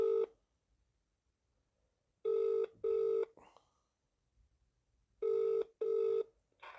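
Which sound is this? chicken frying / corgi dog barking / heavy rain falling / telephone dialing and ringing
telephone dialing and ringing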